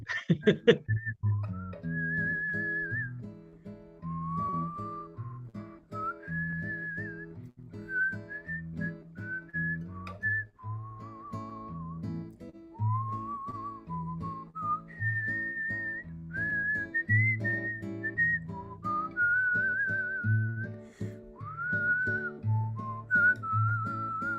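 Someone whistles a lively, wandering melody over a steady instrumental backing, bright notes gliding and trilling throughout.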